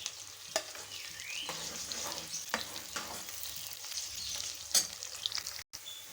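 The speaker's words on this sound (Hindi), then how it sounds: "प्याज को हम फ्राई करेंगे" Onions frying in hot cooking oil with whole garam masala for chana dal gosht, a continuous close sizzle broken by intermittent stirring scrapes and spatula taps, briefly cutting out near the end, with no talk.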